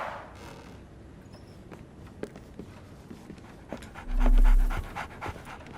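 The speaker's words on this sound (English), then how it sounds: "So, Barnes has a dog now." A dog in the video game Sherlock Holmes The Awakened pants steadily and close up, with faint footsteps and ambient game background, and a brief louder hum near the end.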